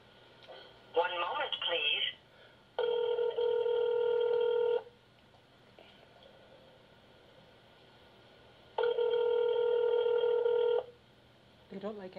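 Telephone on a business line ringing unanswered, two long electronic ring bursts a few seconds apart after dialing tones, heard clearly and alone.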